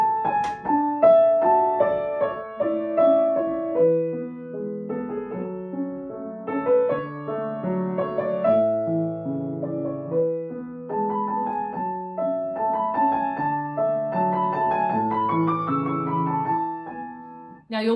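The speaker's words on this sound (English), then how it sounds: "it would be really easy with this Alberti bass to play eighth notes in the left hand." Piano playing a flowing melody over an Alberti bass of steady eighth notes in the left hand, a continuous gentle pattern that carries on for the whole passage with no voice over it.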